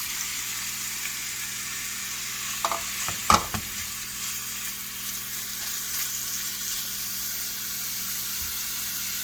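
Shrimp frying in heated oil in a pan, a steady faint sizzle running throughout with a couple of brief louder clinks or spatters near the middle.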